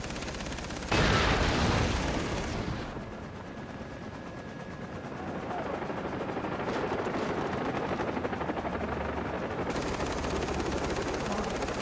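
A helicopter's machine gun fires in the Far Cry 3 video game: a dense, loud burst of rapid gunfire, then a sustained rattle and rotor roar that continues to the end.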